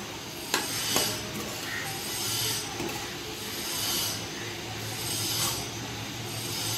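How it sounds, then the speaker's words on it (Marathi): Pumpkin leaf vegetable with coarse peanut powder and salt being stirred in a pan, a steady scraping and rubbing that continues throughout at close range, with a couple of sharper knocks near the start. "चवीपुरतं मीठ घालायचं आणि भाजी छान मिक्स करून घ्यायची"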